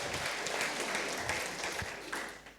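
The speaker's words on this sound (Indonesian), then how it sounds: "Berikan tepuk tangan meriah buat Tuhan kita." A congregation claps together at a church service, a broad, steady burst of applause that continues throughout and fades slightly toward the end, with faint voices mixed in.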